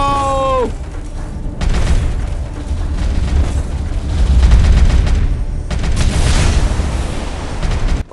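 Heavy starship weapon fire in the tactical space strategy game Galaxy Reavers, a dense rumbling barrage of booming blasts. It plays loud and sustained over a deep droning music bed, after a short rising synth tone at the start.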